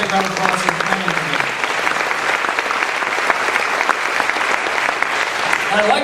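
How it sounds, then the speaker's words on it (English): Audience applause at a college fall convocation for the planning committee, a steady sustained clapping from a large crowd lasting throughout, with a few voices briefly audible at the start. "Big round of applause for the Planning Committee."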